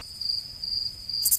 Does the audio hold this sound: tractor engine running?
no